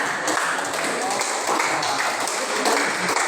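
Classroom applause from students after a group reads out its discussion results in an Islamic studies lesson, a steady dense patter of many hands clapping at close range, filling the short stretch evenly.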